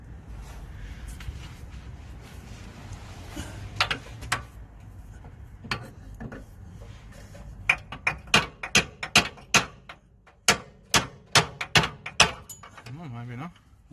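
Hammer blows on a Land Rover Discovery 2 Watts link, a quick series of sharp metallic strikes in an irregular rhythm picking up in the second half, with murmured talk and workshop clatter underneath.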